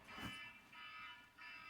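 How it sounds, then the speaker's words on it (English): In a quiet lecture room at UMass Amherst, an electronic alarm gives faint, evenly spaced beeps, three short tonal pulses in under two seconds. "Is that a fire alarm?"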